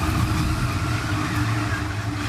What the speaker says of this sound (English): that noise is grinding pace out of that race car